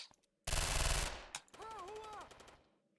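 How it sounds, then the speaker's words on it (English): Gunfire erupts in the shooter video game Jonathan Kane: The Protector, a loud burst of rapid automatic shots followed by a brief pause, a single crack and another sustained volley with a wavering tonal whine over it. "He just came around the corner shooting!"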